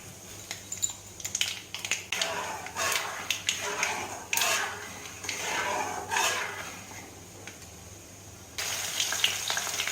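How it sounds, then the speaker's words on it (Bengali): Nigella seeds crackle and sizzle in hot mustard oil in a wok, a faint, uneven spitting mixed with light clinks of utensils and pan, ending in a brighter hiss. "কড়াইয়ে সর্ষের তেল গরম করে নিলাম তারপরে তার মধ্যে দিলাম কালো জিরে"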